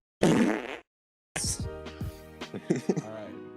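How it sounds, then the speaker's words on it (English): A long fart sound effect, a loud, buzzy blast lasting about half a second, followed by a pause and then a longer run of sputtering, wobbling flatulent noises. "just get like a Baboon's cryptid really corner. long fart. just a real long fart"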